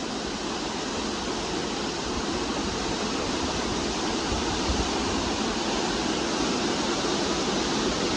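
Rushing water at a village hydro power site in Petka, Kashmir, a loud, unbroken broadband roar that stays steady throughout with no voices over it.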